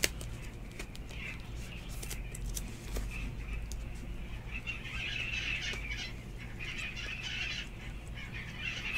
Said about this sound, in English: They kind of sound like chickens.